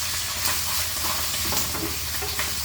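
Meat frying in a pan until crispy gives a steady, loud sizzle with occasional scraping stirs and spattering bursts, alone with no talk.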